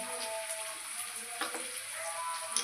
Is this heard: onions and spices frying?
yes